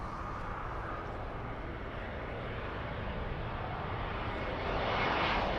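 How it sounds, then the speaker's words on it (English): A British Airways airliner in retro livery comes in to land on Heathrow runway 27L, its engines a broad, steady roar that builds slightly louder toward the end, heard from nearby with no voices. "the one that's about to land, we've got a British Airways retro livery"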